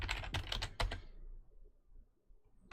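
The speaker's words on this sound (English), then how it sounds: "let me type in something different" Quick burst of typing on a computer keyboard, a cluster of close, crisp key clicks lasting about a second before fading to near silence, faint and without talk.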